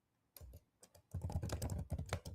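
Loud computer keyboard typing during an online group chat, a few sparse clacks followed by a dense, rapid run of keystrokes close to the microphone.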